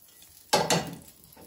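Butter dropped into a hot frying pan for a quesadilla gives two quick bursts of sizzling, loud and close, that fade into a softer crackle with no talking.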